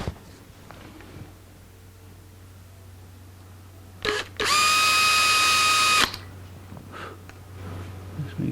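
A power drill bores a hole into an ES 335 guitar body in a workshop, a loud, steady high whine lasting about a second and a half, preceded by a short burst and quiet room noise.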